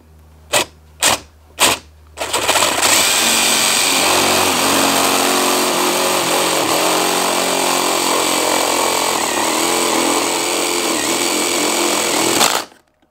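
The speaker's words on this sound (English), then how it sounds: "we now have a hole drilled that gives me access to the stucco back" A power drill bores a hole through a stucco wall for an outdoor GFCI outlet: a few short bursts, then a steady, loud continuous grinding whir lasting about ten seconds before stopping abruptly.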